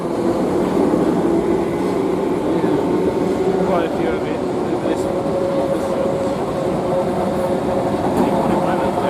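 A train pulling into a station platform in Stratford, with a steady loud rumble and rail noise throughout, a thin squeal rising partway, and a voice speaking briefly over it.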